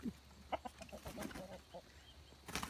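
Muscovy ducklings make soft, scattered clucks and peeps, several short calls spread across a couple of seconds, faint and close by with no talking.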